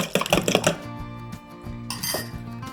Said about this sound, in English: Put your eggs and your oil in your bowl and mix them up.